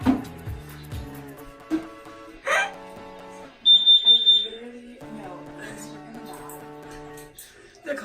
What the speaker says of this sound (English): The carbon monoxide alarm is going off.